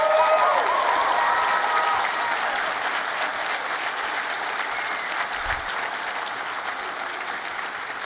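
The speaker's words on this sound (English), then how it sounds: "So please give those founders that are waiting to be called on the stage a big round of applause" A large audience at a global startup pitch competition final in London applauds founders waiting to take the stage, a dense, sustained wash of clapping that slowly tapers, with a brief shout or voice near the start.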